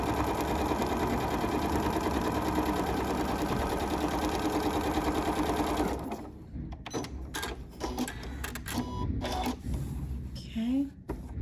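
A Janome MC9450 sewing machine stitches a quilt with a quilt guide attached, giving a fast, steady mechanical whir for several seconds before it stops. Afterwards come small clicks and handling noises, and a voice speaks.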